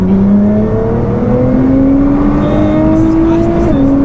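A 700 bhp Nissan GT-R Black Edition with a six-speed gearbox accelerates hard, its engine note climbing steadily and loudly from inside the car, with a brief drop near the end as it shifts.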